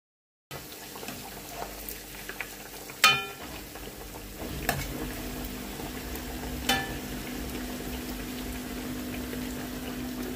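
Pitha rice cakes frying in hot oil give a steady, fairly faint sizzle throughout, with a few sharp clinks of utensils against the pan.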